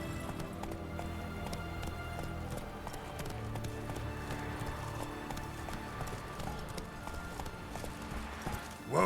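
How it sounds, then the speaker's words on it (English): Horse hooves galloping in the video game The Witcher 3, a rapid, steady clip-clop rhythm running throughout at moderate volume. "Whoa there, Roach"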